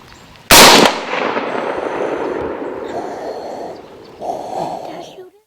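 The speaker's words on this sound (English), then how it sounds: "The shot was a little low." A single rifle shot fired at a buck during a deer hunt, a sharp loud crack close by that rings out into a fading outdoor tail, followed by breathy whispering voices nearby.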